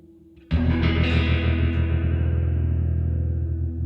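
An electric guitar chord played through an OBNE Parting modulation pedal with its feedback turned fully down, struck once and left ringing loud and alone with a wavering, swirling sustain.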